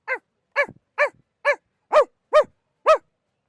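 A voice mimics dogs barking at a livestock market, seven short harmonic yelps spaced evenly about half a second apart, clear and close.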